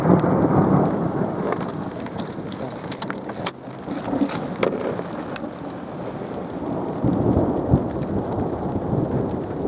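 Rain pours steadily in Southport while thunder rumbles and cracks in the distance, with a few sharper crackles breaking through the constant wash.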